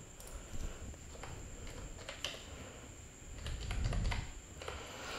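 Keys clack quietly on a computer keyboard as a number is typed into a trading app, with irregular taps spread over several seconds against a low background hiss.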